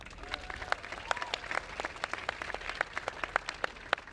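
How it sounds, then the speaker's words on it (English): A small audience claps for Toronto school boards at a speech, a sparse, uneven patter of hand claps that stays fairly light and steady throughout, with no voices over it. "I think they should be given a round of applause too."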